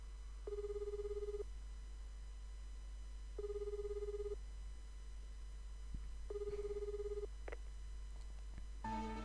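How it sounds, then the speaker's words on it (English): A cell phone call connecting in a Japanese visual novel game, heard as three evenly spaced ringback tones of about a second each, steady and clear over a low constant hum, with a brief click near the end. "hands her cell phone over as it connects to her house."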